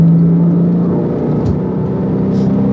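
A Porsche Cayman S 987.1 engine pulls in fourth gear, a loud, steady in-cabin drone with a sustained mechanical hum and road rumble, no talking.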